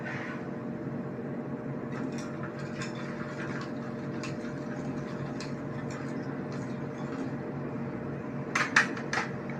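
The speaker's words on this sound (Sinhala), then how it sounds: "පැණි, නැවතත් මම මේක හොඳින් කලවම් කරගෙන" A spoon stirs honey into a drink in a glass, faint steady ticking clinks against the glass over a low hum, then a brief louder cluster of clinks near the end.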